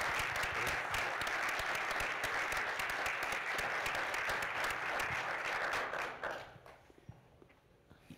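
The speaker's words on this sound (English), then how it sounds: "So please give them another round of applause." An audience at a talk on conflict resolution applauds, producing dense sustained clapping for about six seconds before it quickly dies away to scattered, faint claps and near silence.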